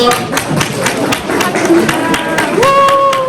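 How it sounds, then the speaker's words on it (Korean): Applause at a Busan city council award ceremony honoring councillors, with scattered claps running through the clip under a steady crowd murmur and a brief tone near the end. "마지막으로 축하 박수 한번 부탁드립니다."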